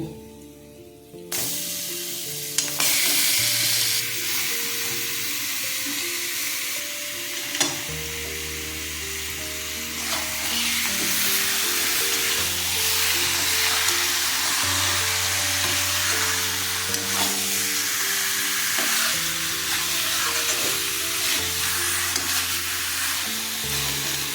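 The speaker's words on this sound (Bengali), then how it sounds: "আমি চিকেনটা এখন মশলার মধ্যে দিয়ে দেব।" Chicken, 1.5 kg, dropped into a spice mixture in a hot pan and frying with a loud, continuous sizzle and hiss, with stirring scrapes throughout and background music underneath, no talk.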